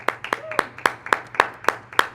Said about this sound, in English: Can I get a round of applause for Jordan, the Students for Biden?